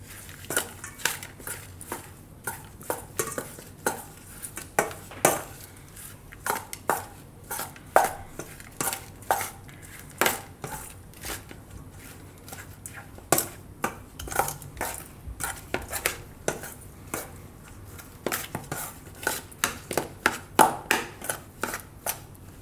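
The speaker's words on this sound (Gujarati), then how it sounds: "હવે આ બધું મિક્સ કરી લઉં." Churmur chaat ingredients with roasted cumin and black pepper powder being tossed together in a bowl: a steady stream of close, sharp clinks and scrapes in irregular bursts throughout, with no talking.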